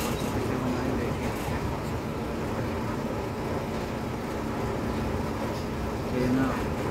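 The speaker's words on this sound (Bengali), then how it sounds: "ট্রেন আস্তে আস্তে চলতেছে" Steady low rumble and hum inside a slowly moving train carriage at night, a constant even drone with no distinct clacks standing out.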